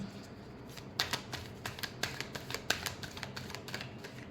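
Tarot cards being shuffled in a quiet room, a run of crisp riffling snaps and soft slaps roughly every quarter second, close and fairly faint, with no voices.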